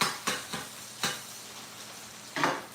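Beef frying in a pan for a chipotle beef bowl, a soft steady sizzle punctuated by a handful of sharp scraping stirs of the utensil against the pan, close and moderately quiet, with no talk.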